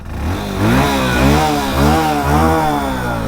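A 2025 Hero HF Deluxe Pro motorcycle engine revs up and down close by in several repeated surges, its pitch rising and falling with each twist of the throttle.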